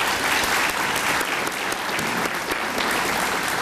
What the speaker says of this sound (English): let's give the council a round of applause